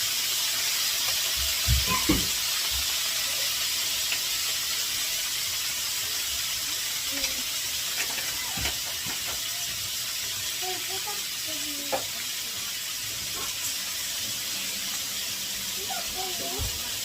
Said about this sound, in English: gonna put a little Worcestershire sauce in here. So we can deglaze that pan.